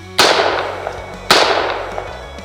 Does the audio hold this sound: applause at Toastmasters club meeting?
no